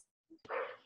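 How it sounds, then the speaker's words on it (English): A pet dog gives a faint, brief yip followed by a short whimpering bark indoors, heard once at a distance in an otherwise quiet room. "My dog's barking."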